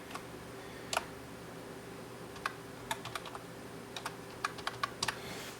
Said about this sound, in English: Grab myself a little keyboard here